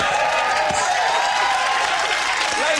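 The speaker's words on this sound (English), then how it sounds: "Give a round of applause" A late-1990s TV studio audience breaks into dense, loud applause, a continuous crackle of clapping hands throughout, with some cheering mixed in.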